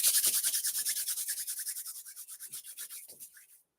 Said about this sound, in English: Maybe you rub the hands together, generate some friction, generate some heat.